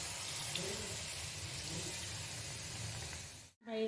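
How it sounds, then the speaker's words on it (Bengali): A cup of water is poured into a pan of frying spiced brinjal for a curd curry, giving a steady, fairly quiet rushing hiss and sizzle that cuts off abruptly near the end. "এবার এর মধ্যে দিয়ে দেবো 1 কাপ পরিমাণ জল।"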